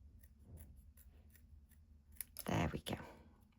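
Scissors snip out leaf shapes for a handmade paper craft, a brief burst of close, crisp cutting near the end, with soft rustling beforehand.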